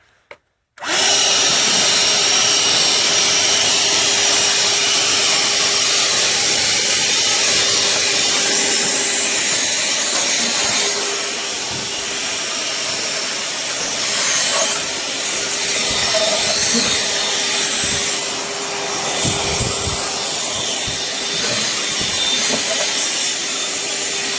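A Ridgid R860902B shop vacuum switches on and runs with a loud, steady roaring whine that holds for over twenty seconds, close by, with slight shifts in pitch as it pulls air and debris.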